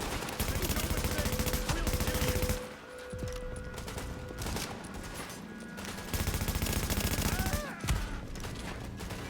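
Sustained enemy gunfire in The Division, heavy automatic bursts that drop away briefly and return, with a few sharp isolated shots and game effects mixed in.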